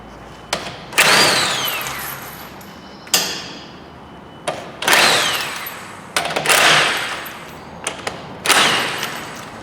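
Impact wrench removing the front wheel nuts on a 2006 Citroen C4 1.6 petrol, several loud rattling bursts of a second or so, each followed by a brief pause and clanks.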